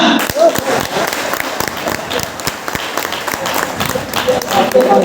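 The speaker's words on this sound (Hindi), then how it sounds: "जोरदार तालियां।" Audience applause with a crowd clapping through a live spiritual talk by a speaker, a steady wash of claps with sharp individual hits, fairly close and lively, with some voices mixed in.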